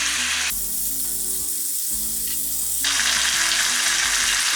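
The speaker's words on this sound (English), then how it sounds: "So what I'm going to do is fry this off both sides, get it all coated up and all lovely" Chicken pieces sizzle steadily in a hot pan for chicken adobo, a loud, continuous frying hiss that briefly dips and then swells again, with no talking.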